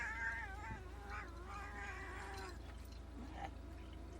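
A cat lets out drawn-out, wavering meows, several in a row over about four seconds, moderately loud and close over a steady low hum, with no talking.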